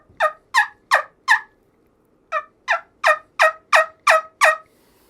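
A hand-made turkey call, trumpet or wingbone style, blown in a bright sequence of yelps: four quick notes, a short pause, then seven more, loud, close and evenly spaced, a voice-imitating instrument rather than a live bird.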